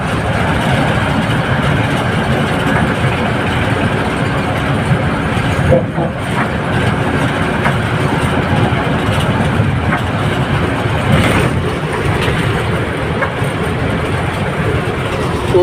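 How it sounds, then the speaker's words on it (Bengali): A steady, loud rumble of a train passing on the Padma Bridge fills the scene, with continuous rolling noise and faint rhythmic clatter throughout. "ওই দেখেন ওই ট্রেন ওখান থেকে ট্রেন যায়"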